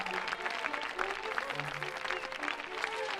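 A crowd cheers and claps throughout in a continuous dense roar in the Book of Spells video game, moderately loud with faint voices mixed in.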